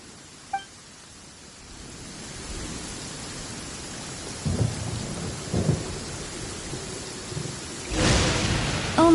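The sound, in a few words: thunderstorm with rain in video game Genshin Impact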